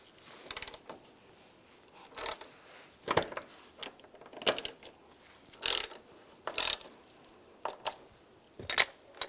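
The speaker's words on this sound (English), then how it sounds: "Now I'm going to use a T50 socket. Take this bolt out, it goes to the lower part of the seatbelt." Ratchet wrench with a T50 socket backing out the lower seatbelt anchor bolt on a 2007-2013 Chevrolet Silverado 1500, giving repeated short bursts of close, crisp clicking separated by brief pauses.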